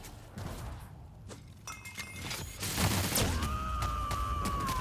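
Gunfire in the video game The Outer Worlds: several sharp shots and impacts in the first seconds, then a louder burst of shooting followed by a rising electronic whine and tone, fairly close against a game soundscape.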